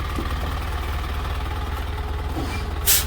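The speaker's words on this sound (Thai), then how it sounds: "นี่ลองเบรกดิ" A modified truck idles at a repair garage with a low, steady engine rumble, then a short, loud hiss of air brake release bursts out near the end.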